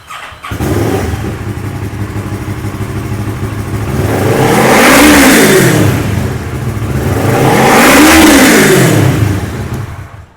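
A motorcycle engine idles steadily, then revs up twice in smooth swells, each rise and fall clearly audible up close.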